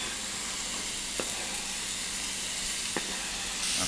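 Asparagus going into a hot risotto pan with olive oil, butter and browning mushrooms gives a steady, fairly quiet sizzling hiss, with a couple of faint clicks.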